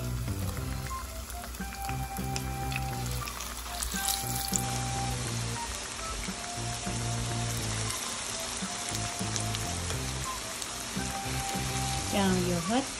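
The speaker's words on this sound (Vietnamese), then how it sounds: "Bỏ hết vô mình chiên một lần luôn." Continuous sizzling of sticky rice frying in a hot pan, crackling steadily up close, with faint background hum and a brief clatter near the end.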